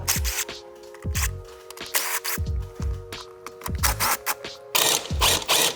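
A ratchet on a 6.7L Cummins CCV filter cover bolt clicks in quick repeated bursts as the bolt turns in a spinning brass insert, loud and close with short pauses between strokes and no talk.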